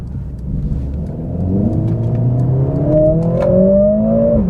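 A 420 hp Mercedes-AMG CLA45 S in race mode is floored on a dual carriageway, its engine note climbing steadily and loudly from close by as it accelerates at full throttle, with no voices.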